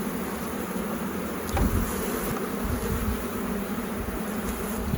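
Honeybees buzz continuously during a beehive inspection of a colony with a failing queen, a close, steady drone with a brief knock partway through.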